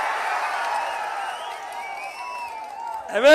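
A large crowd at a political rally in Vedaranyam, Nagapattinam district, gives a sustained roar with piercing whistles drifting over it, loud and steady before a sharp burst of sound at the end.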